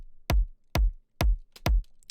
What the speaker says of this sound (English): if I add some processing, it sounds like this.